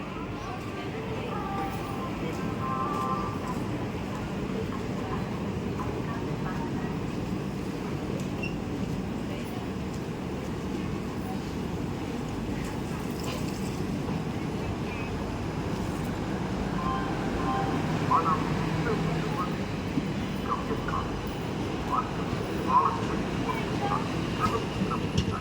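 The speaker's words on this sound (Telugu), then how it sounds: "విశాఖపట్నం మచిలీపట్నం ఎక్స్ప్రెస్" Visakhapatnam–Machilipatnam Express hauled by a WAP-4 electric locomotive at Nidadavolu Junction, a steady, dense rumble of rolling wheels and carriages holding for the full length, swelling slightly near the end, with murmuring voices in the background.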